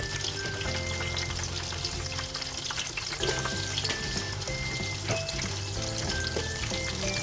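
Garlic and onion frying in a pan for Filipino mung bean stew, a loud, dense, continuous sizzle with occasional light clatter, heard up close.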